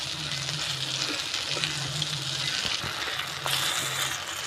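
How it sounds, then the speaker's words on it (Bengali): Pumpkin and taro fritters fry in hot oil with a continuous close sizzle, broken by occasional soft clinks and stirring sounds and a low intermittent hum underneath. "সব আমি এরকম করেই ভেজে নেবো"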